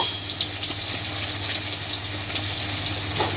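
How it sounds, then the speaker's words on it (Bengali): Boiled potatoes shallow frying in hot oil for Kashmiri aloo dum, a steady close sizzle with faint crackles running alone throughout. "আমার তেলটা গরম হয়ে গেছে, দেখো একটা একটা করে আলুগুলোকে ছেড়ে দেবো।"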